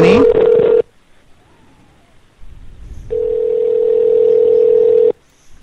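A steady electronic telephone ring tone sounds in two long bursts separated by a quiet gap, clear and close, with no talking.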